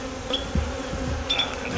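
Agitated honeybees drone in a steady, dense buzz during a hive inspection, close and continuous, with individual bees whining past now and then.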